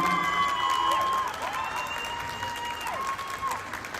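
An audience claps steadily at the FTA Fair trade event at Paradise Park, the sustained applause of a crowd with a faint voice or tones running over it throughout.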